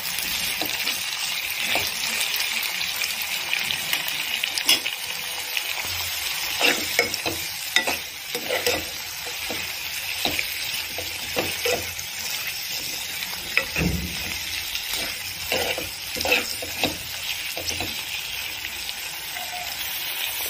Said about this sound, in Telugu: కడిగి శుభ్రం చేసి ఉంచుకున్న పుదీనా వేసుకొని ఆయిల్లో కొద్దిసేపు ఫ్రై చేసుకోవాలి